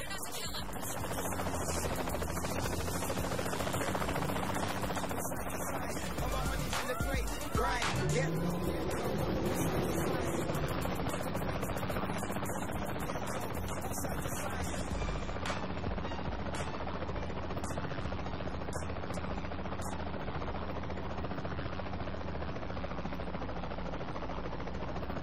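A helicopter drones steadily in Saints Row: The Third, a continuous engine hum and rotor wash holding level for the whole stretch with occasional clicks and brief voices over it.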